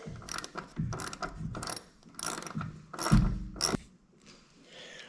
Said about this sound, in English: We're gonna tighten it up and I'll get a longer